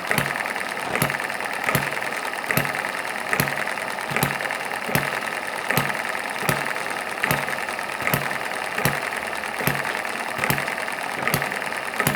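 A miniature hit-and-miss gas engine running on lighter fluid fires in sharp, evenly spaced pops about every 0.8 seconds over a continuous mechanical whir, close and steady.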